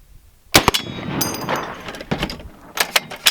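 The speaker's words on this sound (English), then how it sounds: "we are using a Serbu BFG 50A from Serbu Firearms. The most accurate 50 caliber in the world" Serbu BFG 50A .50 caliber rifle fired once, a loud sharp blast with a quick echo, followed by metallic mechanism clanks and further sharp impact noises.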